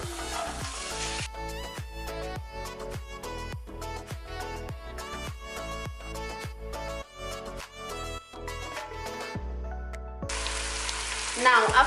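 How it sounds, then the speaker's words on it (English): Onion and ginger paste frying in a pan, a steady close sizzle broken by repeated sharp clicks and clatters of a utensil, with bursts of louder hissing at the start and end. "after letting this to fry or saute for about 2 minutes"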